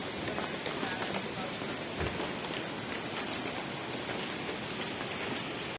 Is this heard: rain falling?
yes